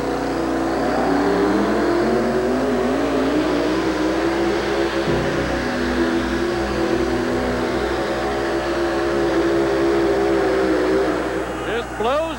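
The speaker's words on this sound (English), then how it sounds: "Front end straight up in the air, all 4 tires on the back, hooked, and Alan mashed the throttle." Loud, sustained roar of a four-wheel-drive monster truck engine at full throttle during a wheel-standing run at a 1988 USHRA pulling and monster truck event in Hartford, Connecticut, with rising revs, a drop and hard rattle midway, and talk over it.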